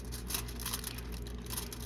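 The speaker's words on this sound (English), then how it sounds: "So we're going to distress this a little by crumpling it up." A dried foil sheet is crumpled by hand, faint crinkling and crackling in irregular bursts over a steady low background hum, with no talking.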